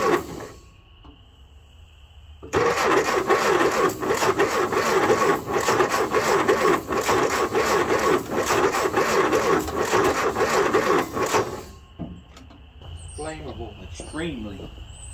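An M151A2 MUTT jeep that sat stored for 20 years cranks over with a rapid rhythmic starter whir for about nine seconds, then stops; quiet talk and ambient noise surround it.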